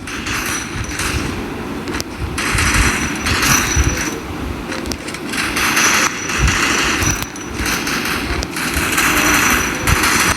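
Gunshots in the Free Fire video game, rapid bursts of automatic fire that come in several loud clusters, separated by brief lulls.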